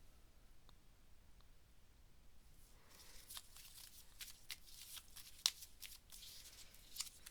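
Tarot cards being shuffled, first quiet, then a run of crisp riffling flicks and taps from close by, with no talk.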